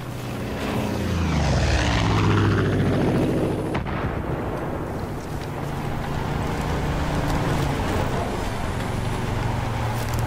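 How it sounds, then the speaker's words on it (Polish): A propeller airplane in the Far Cry 5 video game roars overhead, swelling loud as it passes close and then fading into a sustained engine drone under occasional game noise. "Kurde, samolot leci."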